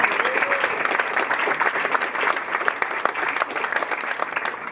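Audience at a jazz concert at the New Morning club in Paris bursting into dense, steady applause, many hands clapping close and loud throughout without a break.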